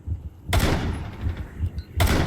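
Breaching charge explosions in a tactical shooter match, two sharp, loud blasts about a second and a half apart with rumbling debris between them.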